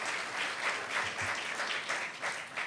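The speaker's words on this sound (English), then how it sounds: "Let's give him a round of applause." An audience applauds at the National Press Club spelling bee, a steady wash of many hands clapping at moderate volume, with brief swells, lasting the whole short stretch.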